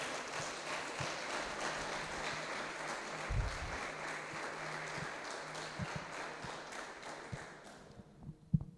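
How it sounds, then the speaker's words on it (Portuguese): A church congregation claps softly, a steady, fairly distant patter of applause that fades out near the end, followed by a couple of stray knocks. "Você pode aplaudir ao Senhor?"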